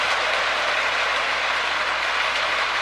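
A restored K-line Hershey's 100th Anniversary Pacific model locomotive on a Marx 333 mold with rear traction tires runs on track, a steady close mechanical whir and rumble with faint rhythmic clicking, no voices.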